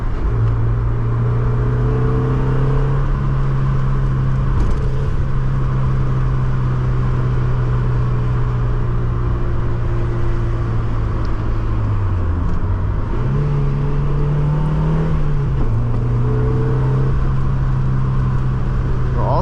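A stock 90-horsepower NA6 Mazda Miata engine hums and revs steadily for a long stretch, pitch rising and dipping as it accelerates and shifts, close and continuous with no voices.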